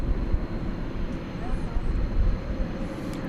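A Boeing 737-800 arriving at DFW Airport from Albuquerque rumbles as a steady, broad engine roar heard from a distance, with a brief higher whine drifting through midway.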